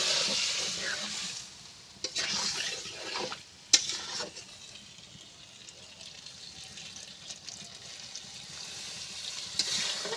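Water is poured into a hot pan of egg, potato and soybean curry, giving a broad hissing sizzle with a sharp splash and crackle, then steady frying bubbling at moderate level, with no talk.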